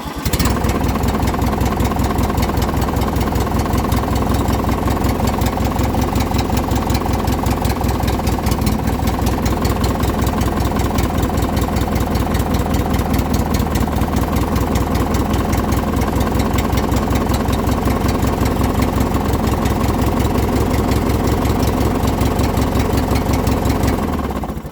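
A small Craftsman engine idling in cold weather, a steady, loud, close chugging with a fast even pulse that runs unchanged throughout and stops at the end, no talk.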